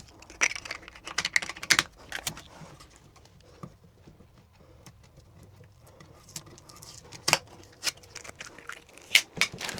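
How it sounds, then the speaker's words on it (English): Plastic pieces being pulled off a Creality Sparkx i7 3D printer: scattered close clicks, snaps and light tapping, some bunched in quick bursts, with quieter handling rustle between them. "Right now I'm just taking off all these plastic pieces."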